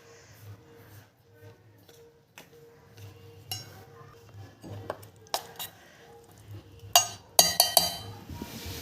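Batter of ground flour, curd, salt and water is stirred in a bowl, with soft scraping and light clinks of a spoon against the bowl, growing busier and louder toward the end.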